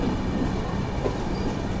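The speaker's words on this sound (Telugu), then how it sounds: "అరకోణ జంక్షన్కి మన ట్రైన్ వచ్చేసి ప్లాట్ఫామ్ 1కి అయితే వచ్చింది" Tatanagar–Ernakulam Express pulling in at the Arakkonam Junction platform, giving a steady, loud rail rumble with faint clatter of wagons and no voices.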